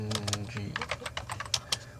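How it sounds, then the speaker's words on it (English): A computer keyboard is typed on in a quick, uneven burst of clicky keystrokes, close and moderately loud, over a low steady hum. "Wow, I failed at typing that first."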